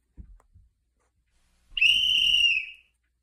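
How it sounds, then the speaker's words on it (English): A single loud, shrill whistle blast lasting about a second, clear and close, following a couple of faint soft thumps in near silence. "Suddenly, a loud whistle pierced the air."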